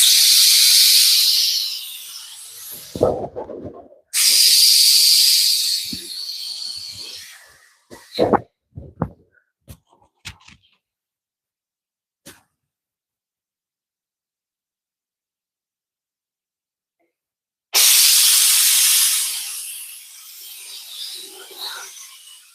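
A pressure cooker in a home kitchen lets out loud bursts of hissing steam, two short blasts early on, then scattered clicks and knocks, a long quiet stretch, and one more strong hiss near the end.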